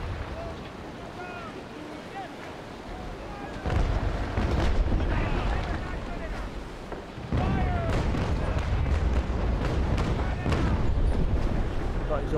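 Naval cannon broadsides from sailing warships in the Naval Action video game, heavy booming bursts over a constant roar of sea and wind, with a louder rumbling wash kicking in twice.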